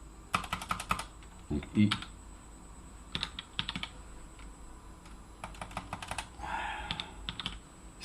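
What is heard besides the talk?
typing on a computer keyboard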